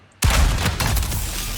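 A tank cannon in World of Tanks fires HEAT shells at a target about 470–480 meters away, giving a sudden loud boom followed by a sustained rumbling roll and further blast tails.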